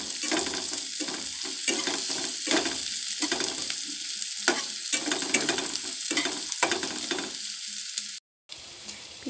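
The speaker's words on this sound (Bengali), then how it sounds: "ভালো করে একটু নাড়তে হবে, নেড়ে পেঁয়াজটাকে একটু লাল করতে হবে" Onions frying in a pan while being stirred steadily, with a constant sizzle and repeated scraping strokes of the spoon across the pan, ending in a short break before the sizzle returns.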